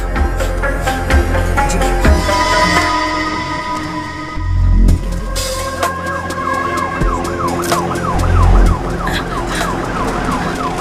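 A wailing ambulance siren rises and falls steadily, loud and fairly close, over a low rumble of traffic, with no one speaking.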